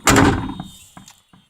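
The stiff door of an old vehicle left parked for a long time is forced open with a loud heavy thunk, followed by a few fainter creaks and small knocks as it swings.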